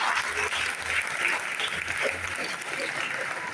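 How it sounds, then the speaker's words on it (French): Audience applause at a festival closing and prize-giving ceremony in Mauritius, dense and continuous clapping from a seated crowd at an even level throughout, with a faint low murmur beneath. "Voilà Ziggy, on peut l'applaudir aussi."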